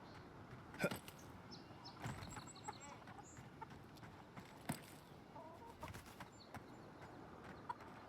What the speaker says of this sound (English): none of you chickens laying any eggs, bro?